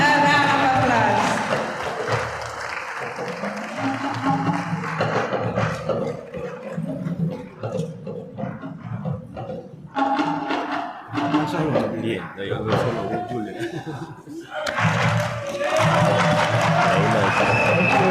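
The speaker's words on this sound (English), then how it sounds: "Give him a round of applause." An audience at a city launching event greets the deputy mayor with loud, sustained applause and cheering that swells and ebbs across the whole stretch, crowd noise filling the hall.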